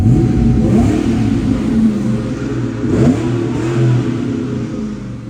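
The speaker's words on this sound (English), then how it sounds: "Let's get another rev." A 2004 Ford Mustang SVT Cobra convertible engine revs sharply several times up close, its loud throaty growl rising and falling with no talking.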